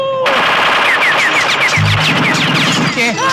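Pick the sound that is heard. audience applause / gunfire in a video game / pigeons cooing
gunfire in a video game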